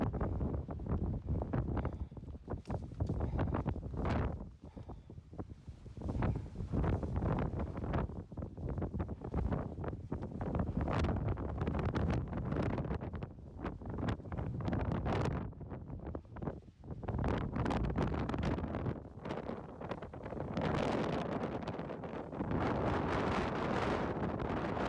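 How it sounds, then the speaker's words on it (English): Strong gusting wind on a Rocky Mountain summit, Bluerock Knob, buffets the microphone in loud, continuous roaring rushes that surge and ease throughout, with no voices. "the wind is so bad"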